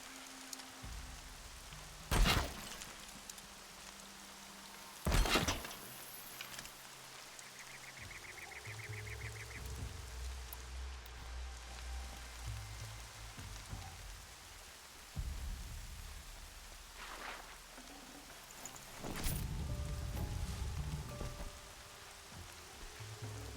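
Steady rain hiss in the video game Horizon Zero Dawn, a constant wash running throughout, broken by a few loud low thuds and booms and some mid-level game sounds, with no talk.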